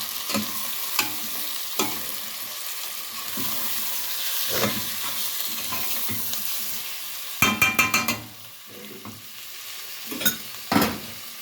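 Small pieces of meat fry over low heat in a pot for okra stew, with a steady sizzle broken by the scrape and clink of a spoon stirring, all close by.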